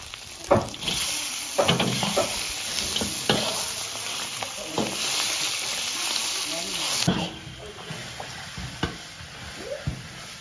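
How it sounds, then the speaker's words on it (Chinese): Food stir-fried in a home kitchen pan sizzles steadily while a spatula scrapes and clanks in irregular strokes, with people talking faintly in the background. "开始炒菜喽"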